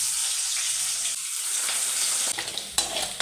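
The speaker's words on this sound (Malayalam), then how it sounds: "അതിനകത്തോട്ട് നമുക്ക് ഈ വെളുത്തുള്ളി ഇടാം, പച്ചമുളകും ഇടാം. നമുക്ക് 2 കരിയാപ്പിലയും ചേർക്കാം." Garlic, green chillies and curry leaves fry in hot oil with popped mustard seeds as tempering for a bitter gourd pickle, giving a loud, steady sizzle with a few crackling bursts toward the end.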